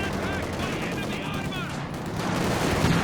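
Sustained gunfire and battle noise from a Company of Heroes 2 match, a dense continuous clatter of shots staying loud throughout with a faint voice mixed in.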